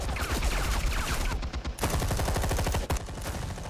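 Rapid bursts of automatic gunfire in Batman: The Telltale Series, loud and close, with a couple of brief pauses between volleys and no talking.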